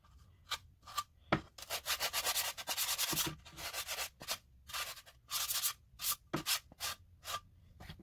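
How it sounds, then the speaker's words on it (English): Sandpaper scraping down rough wooden edges of a birdhouse, in short close bursts of strokes separated by brief pauses. "You need to sand this all down."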